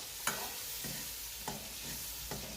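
Gravy masala paste for a paneer dish frying in oil, a dense steady hiss of sizzling punctuated by a few light spoon strokes against the pan, with no talking.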